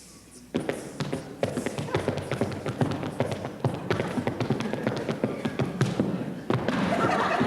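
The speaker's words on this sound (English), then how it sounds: "what we're going to have you do is tap dance" Tap dancing on stage gives a run of sharp, irregular taps and heel thumps at close range, rattling along with quick accents and some louder stamps toward the end.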